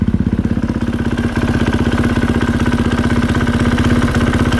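A KTM 450SXF motorcycle idles at close range with a steady, even engine chug and a rhythmic metallic knocking from a worn clutch dampener running through it.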